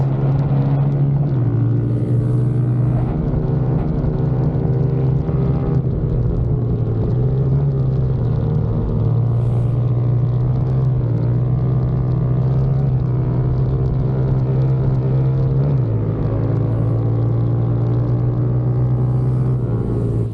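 A Honda CRF110F dirt bike races on a dirt oval, its small engine droning steadily and loudly with repeated shifts in pitch as it works through the laps, with no talk.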